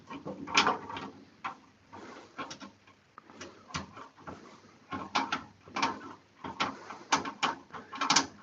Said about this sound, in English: we're just tightening to the point that it will not tighten anymore